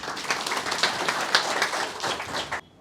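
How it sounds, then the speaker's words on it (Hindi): A crowd of students clapping loudly together in a hall, a dense steady burst of applause that cuts off abruptly near the end. "आप अपने लिए ताली बजा सकते हैं जोर से"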